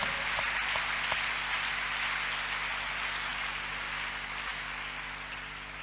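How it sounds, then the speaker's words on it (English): Steady crowd clapping, a dense wash of many hands at an even level that fades slightly toward the end. "Clap your hands unto God of the chosen."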